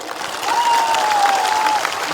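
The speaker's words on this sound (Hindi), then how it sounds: "ताली दीजिए इनको।" Crowd applause at a political gathering, steady clapping of moderate loudness with a thin whistle-like tone over it and no clear speech.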